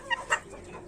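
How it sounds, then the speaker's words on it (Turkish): A rooster in a chicken coop gives a couple of short clucking calls, fairly faint against a low background hum. "Kabadayı bizim kümese sonradan takviye bir horoz."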